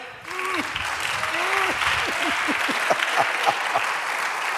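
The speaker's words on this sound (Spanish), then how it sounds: "Dale una aplauso a Dios." Church congregation applauding to praise God during a sermon, a broad steady wash of clapping with voices calling out over it.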